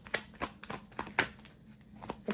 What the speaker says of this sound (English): I just want to shuffle first